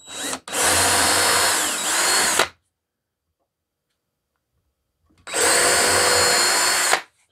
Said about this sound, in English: Use a real small drill bit here.